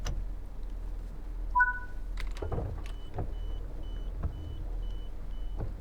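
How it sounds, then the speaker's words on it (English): Doors of a Class 170 Turbostar train in Train Sim World 4: two short electronic tones, then several pneumatic clunks and thuds, followed by a steady series of evenly spaced warning beeps over a quiet idling hum. "Those door sounds sound absolutely brilliant, don't they?"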